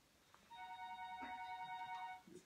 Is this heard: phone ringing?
yes